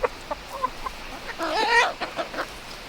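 Several chickens cluck close by in short, irregular bursts, with one louder drawn-out squawk in the middle.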